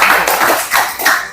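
Students in a junior high classroom clap for group 3 after a presentation, a short burst of loud, close, overlapping handclaps.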